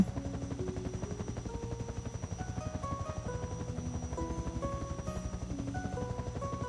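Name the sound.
helicopter flying in Second Life video game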